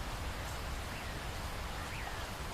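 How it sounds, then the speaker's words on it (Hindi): Steady, dense rain hisses without a break, a soft wash of falling water at low volume. "अरे लाडो, इतनी तेज बारिश में तुम बाहर क्या कर रही हो?"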